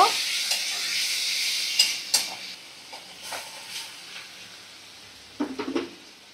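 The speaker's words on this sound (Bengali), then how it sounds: "এবার দেখো কুচানো টমেটো দিয়ে দিচ্ছি, একটু ভালো করে কষিয়ে নেব" Chopped tomatoes sautéing in a pan after salt and turmeric powder went in, a soft steady sizzle with occasional spoon scrapes and knocks against the pan near the end.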